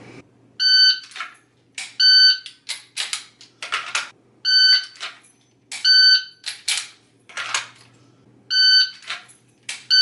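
A shooting-range shot timer gives repeated sharp electronic beeps, each answered by loud cracks of gunfire in quick bursts, in a regular cycle of about one burst every two seconds, close and loud.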